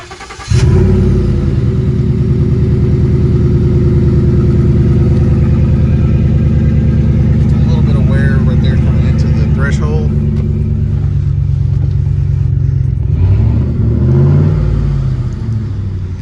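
A 2014 Ford F-150 XLT pickup engine with aftermarket exhaust starts up and settles into a steady, loud idle with a deep rumble, running continuously for the whole stretch.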